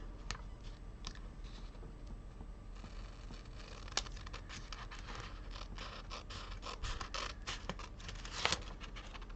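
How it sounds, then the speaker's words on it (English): Scissors trim the edge of a creative journal page, giving quiet scratchy snips and paper rustles through a low, steady background hiss, with a few sharper clicks standing out. "this side, we are going to need to trim the page"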